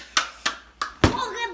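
Cardboard box pieces torn from a box slap together in four sharp, evenly spaced claps, close and fairly loud, with the last clap followed by a voice talking.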